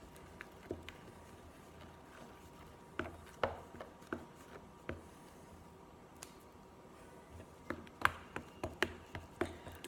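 Sticky light purple fluffy slime gets mixed by hand, giving soft scattered taps and squelchy clicks in irregular bursts, close and quiet, with no talking.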